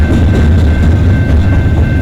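Canadian National freight train CNQ122 passes close by in the London East rail yard, giving a loud, continuous rumble and roar of rolling cars with a faint steady tone above it.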